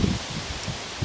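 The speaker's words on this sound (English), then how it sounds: "today is a little bit of a windy day" Brief burst of leaves rustling in gusty wind, a steady soft rush with low buffeting, no voices.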